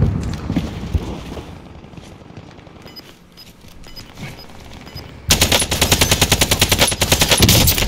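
Automatic gunfire in a shooter video game on a courtyard prison map. Scattered quieter shots come first, then a loud, rapid burst of evenly spaced shots fills the second half.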